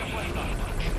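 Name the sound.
helicopter in the video game Metal Gear Solid V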